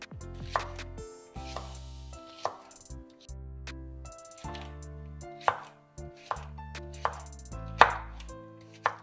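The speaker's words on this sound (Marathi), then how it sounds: "भेंडी आपण मीडियम साइज मध्ये चिरून घेऊया।" Okra is cut into medium pieces with a knife on a board, about a dozen crisp, distinct chops in an uneven rhythm over soft background music.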